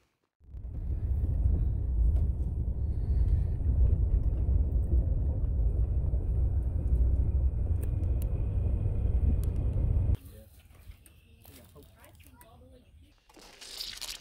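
A farm truck on the way to a farm rumbles steadily for about ten seconds in a low, loud, continuous cabin drone, then the engine sound drops away into quieter noise and faint talking.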